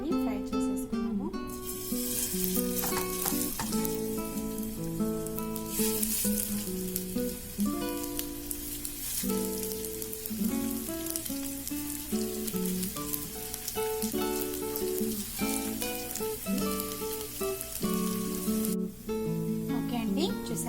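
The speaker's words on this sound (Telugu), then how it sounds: "ఒక్కొక్కటి ఫిష్ యాడ్ చేసుకొని ఫ్రై చేసేసుకున్నాము." Fish pieces for kabab sizzle steadily as they fry in hot oil. The hiss is continuous and fairly loud, with music playing underneath the whole time.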